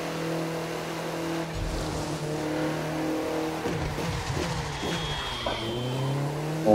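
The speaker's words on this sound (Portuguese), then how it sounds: "Legal quando faz a troca de câmbio, ele dá essas explosões no câmbio." Audi TT RS engine in The Crew 2 racing game revs and climbs through gears, with crackling backfire pops at each gear change and some tire squeal, loud and close without talk.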